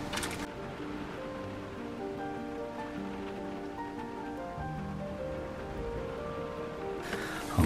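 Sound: heavy rain pouring down outside a campervan

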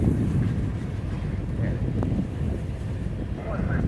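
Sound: wind blowing against the microphone outdoors

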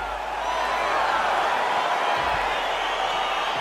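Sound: crowd cheering in EA Sports UFC 4 video game

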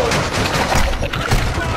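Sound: gunfire in the video game Modern Warfare 2

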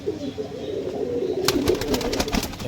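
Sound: Dhanyabela pigeon pair cooing

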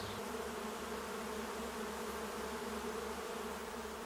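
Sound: bees and insects buzzing among flowers

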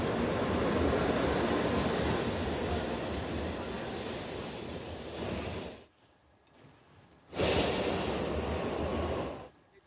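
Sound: bullet train interior ride

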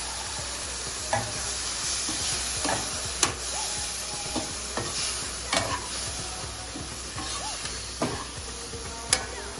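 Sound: frying masala for mutton curry

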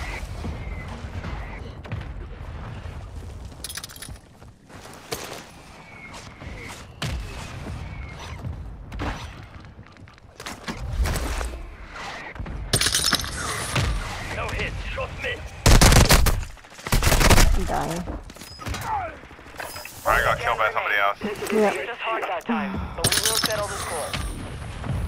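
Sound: mortar strike explosions in a video game

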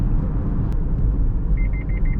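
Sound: Mazda CX-8 lane departure warning beep

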